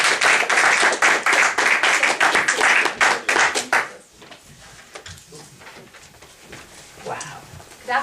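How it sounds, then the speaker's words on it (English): Applause at a Toastmasters meeting, dense and loud clapping from a room of people for about four seconds before it drops away to quiet room noise and shuffling. "So let's welcome with a good round of applause, Beatrice Yuli."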